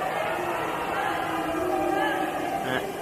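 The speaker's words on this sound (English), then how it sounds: "Crowd getting a little bit up and about." A stadium crowd at a senior men's football match grows rowdy, a broad continuous roar and murmur at mid distance, with a commentator talking over it.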